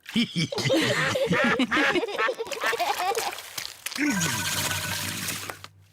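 A cartoon duck quacks in a Peppa Pig episode, giving a rapid run of loud, close, nasal quacks, followed by a cartoon voice speaking.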